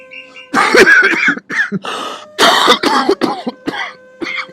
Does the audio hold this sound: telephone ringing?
no